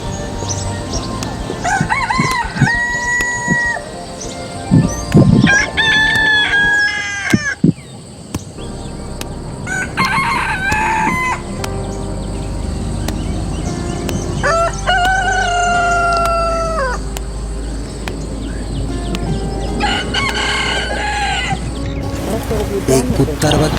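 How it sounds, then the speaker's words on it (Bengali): Roosters crow loudly over and over, with long drawn-out calls, while hens cluck and chatter among them close by. A voice speaks at times between the calls. "মুরগি আর মোরগ ডাকাডাকি শুরু করছে।"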